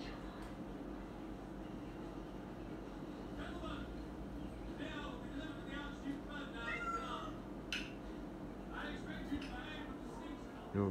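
A cat meows several times, faint and somewhat distant, over a steady low background rumble with a person talking softly nearby.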